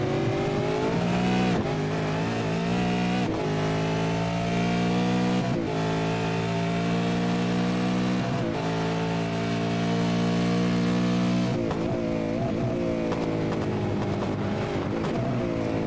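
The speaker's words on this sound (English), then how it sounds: "put your volume up for a sec and we'll let you hear this V8 engine roar" A V8 Supercar in the iRacing sim roars continuously, revving high and dropping through upshifts in a repeating pattern of rising pitch, loud and unbroken with no voices over it.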